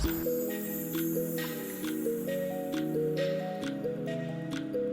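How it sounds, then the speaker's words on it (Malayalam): Continuous bubbling and gurgling of an aquarium air filter in water, with regular ticking pulses and a steady low hum, close and fairly quiet. "ഇനി നമുക്ക് എയർ ഫിൽട്ടർ ഓണാക്കാം"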